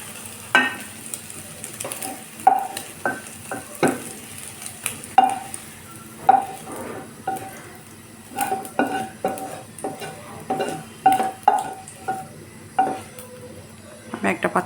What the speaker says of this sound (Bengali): আমি ডিমটা ভেজে উঠিয়ে নিয়েছি।